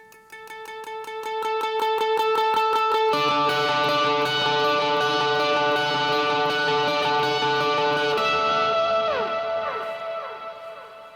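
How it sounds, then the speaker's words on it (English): A rapid picked electric guitar line, dense and effected with echo and distortion, building in intensity and playing alone, leading out of a third verse. "We come in at the end of the 3rd verse with a little picking line to kind of build it"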